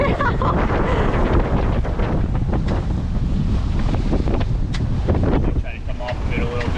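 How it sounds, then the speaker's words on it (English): Strong wind roars and buffets across the microphone aboard a heeling sailboat moving fast, a loud continuous rush mixed with water noise and occasional gusts. "We got a fair bit of wind."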